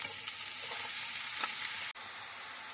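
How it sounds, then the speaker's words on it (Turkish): Steady hissing sizzle of onions frying in hot oil in a pan, close up, with a brief dropout near the end. "Isınan yağımın içerisine bir adet doğramış olduğum soğanımı ekleyip pembeleşinceye kadar kavuracağım."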